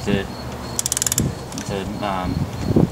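A ratchet clicks in a quick, close burst while valve cover bolts are torqued down on a Saturn SL2 DOHC engine, followed by softer scraping and handling noises around it.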